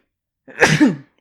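One sharp human sneeze, close and loud, a quick inhale then a burst, isolated against silence.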